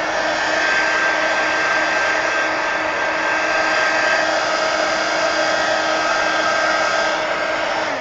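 Hair dryer blowing steadily on a painted book page in a mixed-media altered book, a loud constant whooshing drone with a faint tonal whine, running unbroken throughout with no talk.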